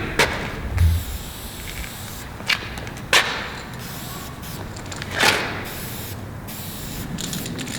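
A Molotow spray paint can sprays graffiti in several short bursts and one longer hiss, with a low background hum and a soft thump between strokes.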